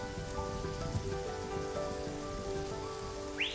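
Heavy rain pours steadily onto the low-lying Amazon jungle, a dense, continuous hiss of drops on leaves with no voices, loud and unbroken throughout.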